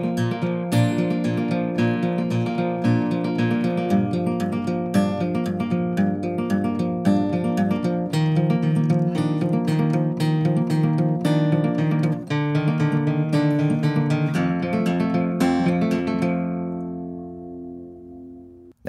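Acoustic guitar fingerpicks the verse chords of a song in a steady, gentle arpeggiated pattern, played alone and close. The last chord rings out and fades.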